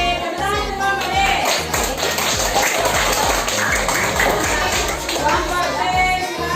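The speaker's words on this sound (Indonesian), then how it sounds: "Tepuk tangan untuk kelompok D." Students in a primary school classroom clap for a group, a dense, close burst of many hands in a quick rhythmic pattern, with children's voices mixed in.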